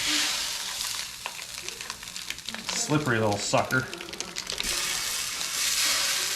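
Food sizzling loudly in avocado oil on a hot Blackstone griddle, a continuous frying hiss with stirring and scraping, while a person speaks briefly over it.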